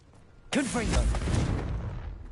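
A Confringo blasting spell in Hogwarts Legacy on PS5 goes off as one sudden, loud boom that rolls into a crackling, rumbling tail for nearly two seconds.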